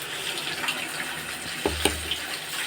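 Chili vada batter slides into hot oil in a pan and begins to fry, a steady wash of sizzling bubbling with a couple of sharper splashes near the middle, close and moderately loud.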